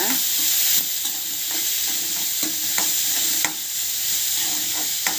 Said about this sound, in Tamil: தக்காளி கட் பண்ணி வச்சுருக்கேன், அதையும் வந்து போட்டு அதையும் நல்லா வதக்கிக்கோங்க.